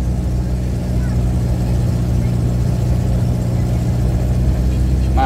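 A Suzuki Carry 1000's engine runs steadily in second gear while climbing a road, a loud, continuous low drone from inside the cab with no breaks.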